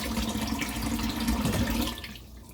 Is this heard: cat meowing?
no